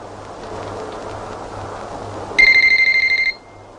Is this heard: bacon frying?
no